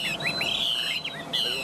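A tame hwamei songbird sings close by, delivering a fluid run of rising and falling whistled phrases and chirps over a faint room background, pausing briefly before starting another phrase.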